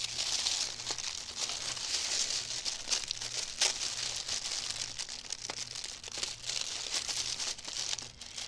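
Tissue paper wrapping in a quilt subscription box rustles and crinkles softly and continuously as it is unfolded, close by with no talking.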